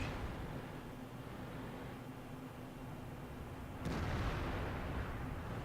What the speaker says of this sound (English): They're firing blind through the bushes now